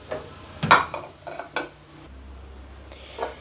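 Fried gulab jamun being dropped into sugar syrup in a pan, with several close clinks and knocks of a spoon against the metal pan in an irregular rhythm, fairly loud with quiet gaps.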